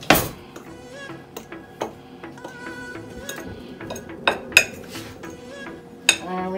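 A fork clinks and taps steadily against a bowl while dry cake flour and other dry ingredients for a Jamaican rum fruit cake are stirred together, with sharp metallic knocks among continuous scraping.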